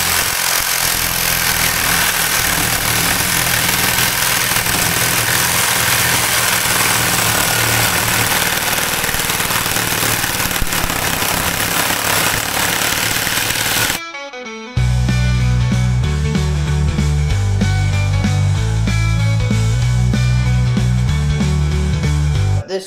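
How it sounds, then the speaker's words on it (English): A sawzall reciprocating saw cuts through the steel casing and copper windings of a 150 lb electric motor, a loud, continuous, close grinding roar that breaks off briefly partway through, then resumes with a harsher, pulsing buzz. "So I put in the smaller sawzall blade, and then I'm just going to start it and just go all the way around."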